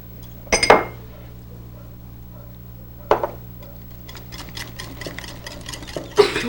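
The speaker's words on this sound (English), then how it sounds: "You're going to whisk it together." A whisk or spoon hitting the side of a bowl while a mixture is stirred together, with three sharp clinking bursts spread out over soft stirring and light taps.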